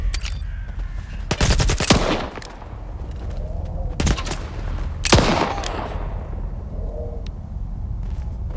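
Gunfire in the shooter game Stalker 2: Heart of Chornobyl, with loud, close bursts of rapid shots around the two-second mark, a single sharp blast near four seconds and another burst near five, all over steady background ambience.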